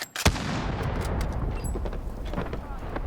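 Gunfire in a zombie-mode shooter video game set in a nighttime Halloween level, with a sharp shot at the start followed by a dense, loud rolling roar of continued firing and booming effects.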